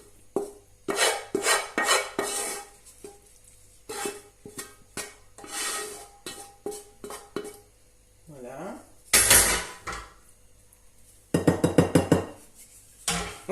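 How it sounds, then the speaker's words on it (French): Chopped vegetables being added and mixed into a stuffing for stuffed cabbage in a bowl, bursts of clattering utensil scrapes and clinks on the bowl at close range, separated by short pauses. "je rajoute tous les légumes à la farce"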